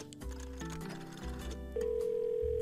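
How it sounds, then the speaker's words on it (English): An old rotary telephone in the horror game Dead Plate gives a series of stepped electronic tones as it dials, then a steady, louder dial tone that holds to the end. The sounds are clear and close, with no talking. "We have like a rotary phone or like those old phones or whatever they're called."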